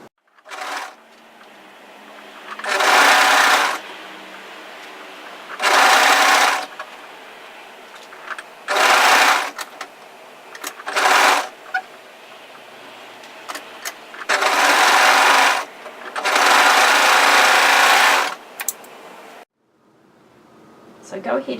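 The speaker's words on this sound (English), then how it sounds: "So you need to overlock through the 3 layers." An overlocker sews through three layers of fabric in six loud, whirring bursts of several seconds each, separated by quiet pauses while the fabric is repositioned.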